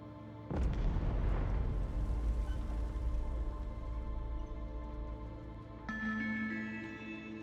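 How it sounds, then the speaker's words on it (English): Explosions in the video game The Entropy Centre: a heavy, booming blast erupts after a moment of quiet and rumbles on for several seconds, then fades, and a second louder crash with ringing metallic tones follows near the end. "things start exploding"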